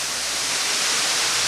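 Waterfall in a canyon, a steady, loud broadband rush of falling water filling the whole moment without any voices.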